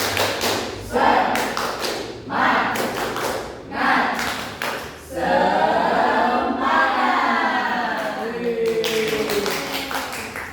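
A primary school class performs the 'tepuk semangat' clapping chant, with bursts of rhythmic group clapping and thumps alternating with children's voices chanting together.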